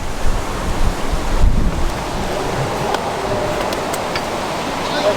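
Strong wind blowing outdoors in New Mexico near a lake, a loud continuous rushing roar buffeting the microphone.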